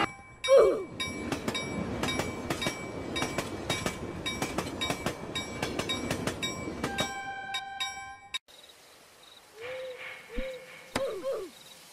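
Train in the Roblox video game passing by: a steady rhythmic clickety-clack with a high whistle-like tone runs for several seconds, then stops. Faint bursts of a hooting voice follow.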